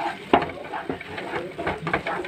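Leftover paneer tikka marinade being mixed into tomato masala frying on a tawa, with a few close clinks and scrapes of a spoon over a low sizzle, no talking.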